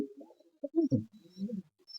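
Large white pigeons with banded necks and tails coo softly and intermittently nearby, a few low throaty calls rising and falling, with faint chirps in the background.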